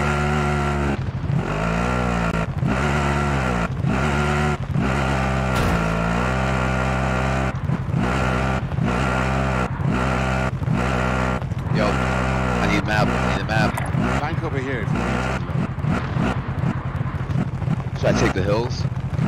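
A vehicle drives steadily in Call of Duty Modern Warfare 2's Plunder mode, its engine holding a continuous droning tone through the whole stretch while players talk over it.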